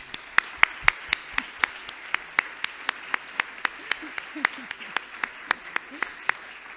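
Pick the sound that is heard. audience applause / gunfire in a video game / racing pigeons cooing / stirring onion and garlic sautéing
audience applause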